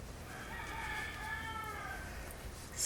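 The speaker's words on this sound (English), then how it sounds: "I don't know if you'll be able to hear the rooster." A rooster crows somewhere off in the distance, a faint drawn-out call under steady low background noise, with nothing louder close by.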